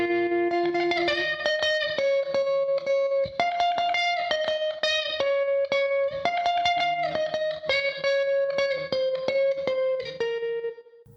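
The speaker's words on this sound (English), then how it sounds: "So I used this classic tremolo twang effect," Lead guitar through a classic tremolo twang effect in Guitar Rig plays a bright, pulsing melodic line with steady note repeats and reverb, loud and alone throughout.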